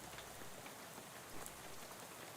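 Rain falling at night in the video game Shadows Over Loathing, a very faint, even hiss of steady rainfall with no talk over it.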